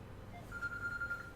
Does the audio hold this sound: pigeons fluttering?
no